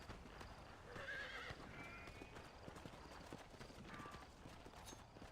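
A horse in the video game Red Dead Redemption trots with quiet clip-clopping hooves and lets out a faint whinny, heard at low level with soft ambient game sound.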